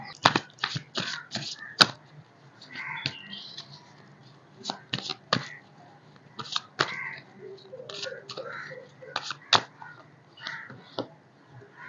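Tarot cards being shuffled up close, with crisp riffles and sharp slaps in quick bursts and brief pauses between them, while someone speaks quietly in the gaps.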